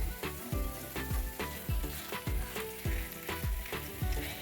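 A thick milk and cocoa chocolate dough is stirred in a hot pan, with a steady sizzle broken by regular scraping strokes about twice a second, close and fairly quiet, with no talking.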